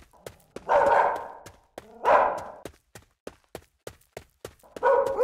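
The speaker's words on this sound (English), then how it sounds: "There's our dog." A dog in a horror video game barks repeatedly in short, sharp bursts, some louder and fuller than others, spaced irregularly across the scene with no talk over it.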